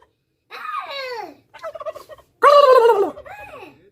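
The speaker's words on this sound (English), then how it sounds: "They're good turkeys." Turkeys, including a white one, gobble near a garage: two loud, close bursts of warbling gobbles with shorter clucking calls between and after, standing alone in an otherwise quiet setting.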